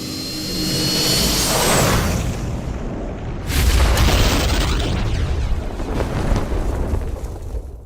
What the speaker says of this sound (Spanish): La explosión se produjo en el sistema de alcantarillado